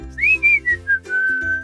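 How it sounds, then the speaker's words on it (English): A clear, melodic whistle sliding through a few short phrases, then holding a long steady note, close and fairly loud with no talking. "I hear a zookeeper whistling in my ear."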